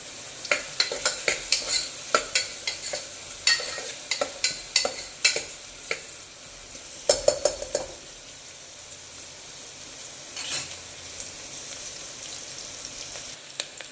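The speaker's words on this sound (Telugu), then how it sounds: "రెడ్ కలర్ వచ్చేదాకా వేయించుకోవాలి దీంట్లో కరివేపాకు కూడా వేసుకున్నాం" Onions and curry leaves fry in a pan with a steady sizzle, broken by bursts of scraping and stirring clatter that come in quick runs, then ease off as the hiss goes on alone.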